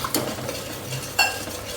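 Onion being stirred together with garlic-ginger paste in a pan, a few distinct scrapes and clinks of a spoon against metal over a soft sizzle.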